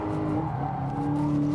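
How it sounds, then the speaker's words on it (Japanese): A tuned drift car's engine pulls hard from low revs, a loud, close, continuous drone with a rising pitch and a touch of tire noise, no voices. "低回転からでもねどんどんこうやって加速体制に入れるような気がする"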